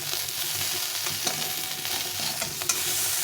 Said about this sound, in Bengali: মাছগুলো একপাশে ভাজা হয়ে গেছে